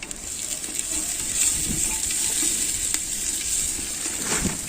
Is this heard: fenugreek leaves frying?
yes